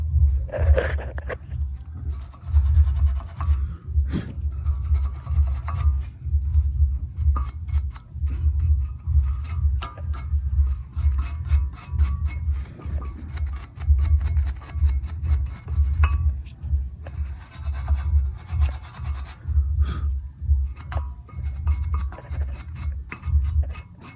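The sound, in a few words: wire brush scrubbing brake caliper contact points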